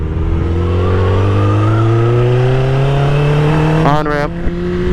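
A 2000 Suzuki Hayabusa motorcycle accelerates hard onto an on-ramp, its engine note climbing loudly and steadily before a quick gear change, with wind roar throughout.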